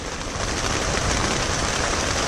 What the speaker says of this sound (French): Mais il pleut sur mon lit.